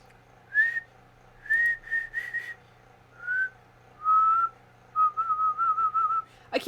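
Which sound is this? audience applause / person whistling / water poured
person whistling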